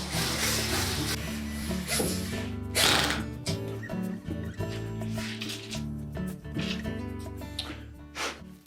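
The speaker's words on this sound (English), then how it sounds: "We'll begin by attaching the two screws at the top first." Screws are driven into a Whirlpool range console, a close mechanical whir with a ratcheting, gear-like texture that runs in uneven bursts, with a few sharp clicks and handling noises between turns.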